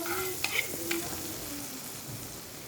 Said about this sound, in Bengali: এবার এটাকে আমি ভালো করে বাটারটাকে আমি ভালো করে নেড়ে